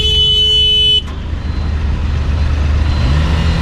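A 2020 Hero Xtreme 160R BS6 motorcycle on a test ride, its steady engine and road rumble loud and continuous, with a brief high electronic beep at the start before the sound settles into a low drone.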